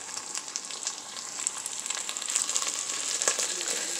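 Onion and beef chorizo frying in a pan for frijoles charros, a steady close crackling sizzle with small pops that grows slightly louder, no talking.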